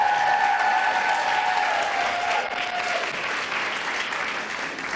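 Sustained applause from an audience at a pediatric residency graduation ceremony, steady clapping filling the room for several seconds with a few cheers mixed in, easing slightly toward the end.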